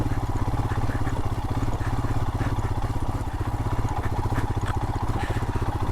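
A motorcycle engine thrums with a steady, rapid low pulse while riding the rough off-road trail of Schnebly Hill Road, with clattering bumps and jolts mixed into the close, constant drone.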